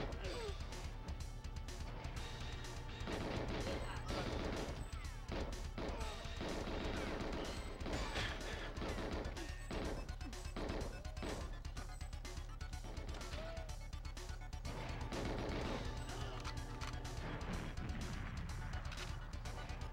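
Grenade explosion from the N64 GoldenEye 007 game, heard amid dense, continuous game audio with repeated loud crashes and bursts of gunfire, while players talk over it.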